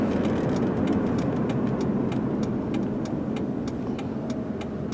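A 2005 Chrysler Town & Country minivan drives along with a steady, close road and engine rumble. A regular series of faint ticks runs throughout.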